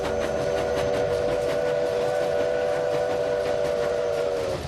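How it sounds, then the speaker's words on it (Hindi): A steam train runs at speed toward New Delhi station, a long, steady whistle sounding the whole time over a continuous rumble of wheels and rattling carriages. "वायसरॉय की स्पेशल ट्रेन 60 मील प्रति घंटे की रफ्तार से नई दिल्ली रेलवे स्टेशन की तरफ"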